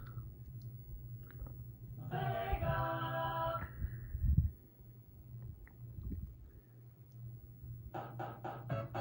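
Sonic the Hedgehog game music and effects from a correctly working Sega Genesis, with a bright melodic burst in the middle, softer low tones throughout, and a run of sharp bleeping blips at the end, loud and close.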